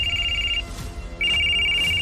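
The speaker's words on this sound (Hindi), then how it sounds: "2 रिंग के बाद ज्योति के पापा ने फोन उठाया" A telephone rings twice with a steady electronic bell tone, each ring clear and close, separated by a brief quiet gap.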